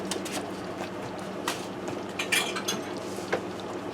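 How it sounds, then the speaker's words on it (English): A lid clatters against an Instant Pot's metal pot and rim as it is shifted aside while beef stew simmers, with a few sharp clanks and scrapes over a steady low kitchen hum. "Let me move my lid out of the way here"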